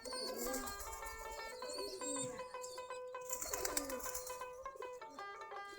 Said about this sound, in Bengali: এখানে একটা বাচ্চা ডাকতেছে খাওয়ার জন্য